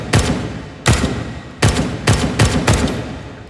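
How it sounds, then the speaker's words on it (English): Closed-bolt submachine gun firing in the H3VR virtual reality shooting game: six sharp, loud single shots spaced unevenly across a few seconds, each with a short reverberant tail, no talking. "We're going to take a few shots."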